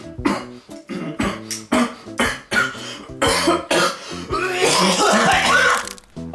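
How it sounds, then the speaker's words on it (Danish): A man coughs and clears his throat in a rapid series of harsh, close bursts, ending in a longer rough coughing fit. "jeg har selvfølgelig lidt hoste om morgenen"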